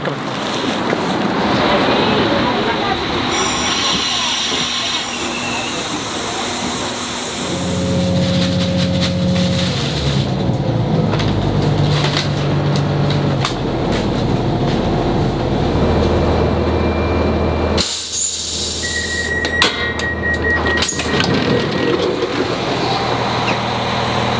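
A train from Waterford to Dublin rumbles past up close, loud low rumble with screeching and horn-like tones, with a sudden shift in the noise partway through.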